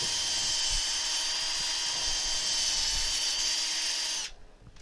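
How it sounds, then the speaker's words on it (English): A steady high-pitched whine of a spinning lathe sanding an elm burr wood turning runs continuously, then cuts off near the end, leaving quiet hum. "I really don't want to spend all night sanding this for you."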